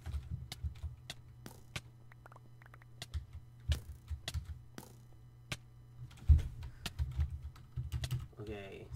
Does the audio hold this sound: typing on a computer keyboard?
yes